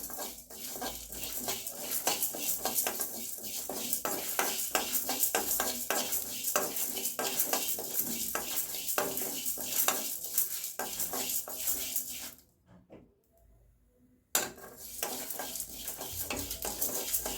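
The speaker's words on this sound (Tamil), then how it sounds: "இதெல்லாம் இப்போ லைட்டாக நல்லா பொரிச்சிட்டு இதை ஆற வச்சு பவுட்ரு அரைச்சி வச்சுக்கலாங்க" Dried red chillies frying and being stirred in a pan, with continuous close sizzling and scraping spoon strokes against the metal, briefly pausing near the end before resuming.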